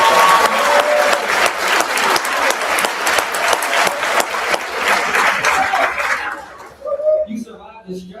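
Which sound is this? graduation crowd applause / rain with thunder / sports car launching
graduation crowd applause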